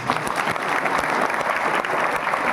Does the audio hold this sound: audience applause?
yes